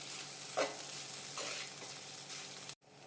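Cooked rice is stirred into a frying gobi mixture, producing a steady close sizzle with a couple of scraping stirs before the sound cuts off abruptly near the end; no one speaks.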